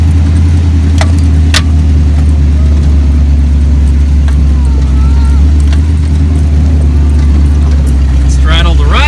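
A V8 Jeep CJ5 pulled from a junkyard idles and crawls along at low throttle, its steady deep engine rumble loud and continuous throughout with faint rattles.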